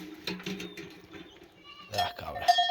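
Goats bleat in a small milking pen as one is picked out for milking, with a couple of short close bleats, light clinks of a metal pot and a voice murmuring nearby.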